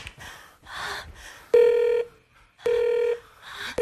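An elevator emergency telephone gives two loud, steady ringback tones, each about half a second long and separated by a pause, with brief clicks and faint voices around them, as two people trapped in a stalled lift call for help.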